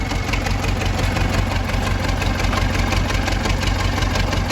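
A Ford farm tractor's engine runs steadily at idle, a loud, close, continuous diesel rumble with an even low throb and no voices.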